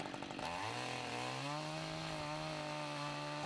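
Chainsaw revving steadily while a trainee arborist climbing in a tree cuts a branch, a close, continuous buzzing whine that rises in pitch and holds for a few seconds.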